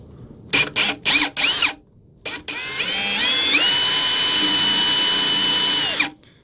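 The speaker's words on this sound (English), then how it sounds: "A Forstner bit is for like recessing a hole, and we're just trying to drill a hole out" A power drill with a Forstner bit boring a hole in a plastic bucket fires in several short bursts, then spins up into one long, steady high-pitched whir before stopping abruptly.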